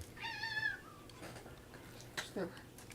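A cat meows a few times close by in the opening half second, fairly loud, then falls quiet. A few faint thuds and a brief, softer vocal sound follow over a low background hum.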